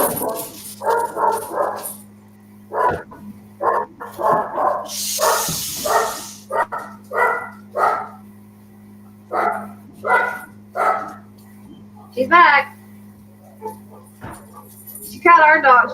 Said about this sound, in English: Listen, our dog is going in the back. You guys hear my dogs?